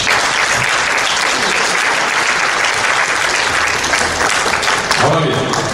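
Loud, sustained applause from a large church congregation fills the space, steady clapping that continues throughout before thinning slightly near the end.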